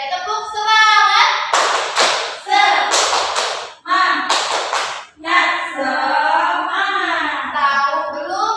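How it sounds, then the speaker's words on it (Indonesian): Rhythmic 'tepuk semangat' clapping chant performed by a class in an Indonesian classroom, several bursts of group hand claps in a patterned rhythm alternating with children's chanting voices. "Ya, tepuk semangat."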